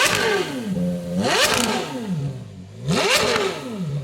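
Exhaust of an all-black Porsche 962 race car on the road, revving up and down twice in strong sweeping rises and falls, loud and close with a rasping, clattering edge.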